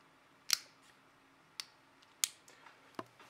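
Faint, sharp plastic clicks and snaps from handling the SIM card slot cover on a Nokia N8 phone, four or five distinct ticks spread out over quiet room tone, close to the microphone.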